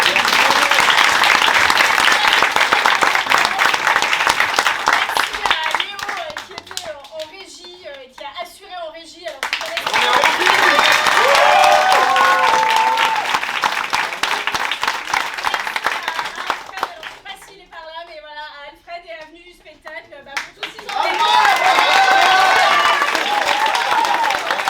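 Audience applause after an amateur theatre show in Paris, dense clapping in two long loud bursts separated by quieter stretches where voices and scattered claps carry through, with the crowd continuing between waves.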